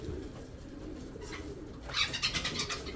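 Ornamental pigeons coo in a low, rolling murmur that continues throughout, with a few brighter chirps near the end, all heard fairly close with no talking.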